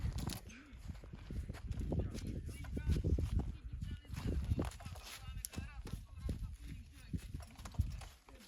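A draft mare walks on a farm, her hooves clip-clopping in an irregular rhythm close by while people talk over the steps.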